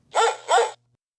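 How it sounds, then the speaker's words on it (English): A dog in a TV commercial gives two short barks in quick succession, fairly close and loud, then silence follows. "Dog."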